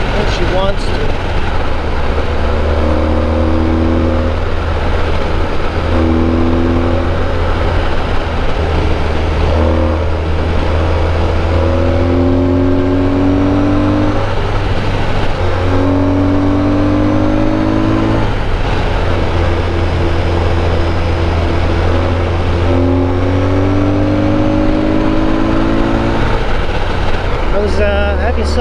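A Suzuki V-Strom motorcycle rides at speed with a loud, steady engine drone and wind roar throughout, with repeated rising whines as it revs up and shifts.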